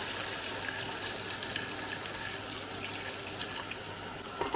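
Steady rush of water pouring from a tap into a pot of potatoes and meat, continuous and fairly close, with no voices.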